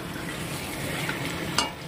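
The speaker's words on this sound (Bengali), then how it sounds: "এই দেখো গরম করবো চাটনিটা" Chutney heating in a pan, a faint low sizzle with light stirring, a few small clinks of a utensil and one sharper tap near the end, close by and with no voices.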